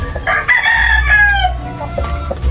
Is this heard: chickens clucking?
yes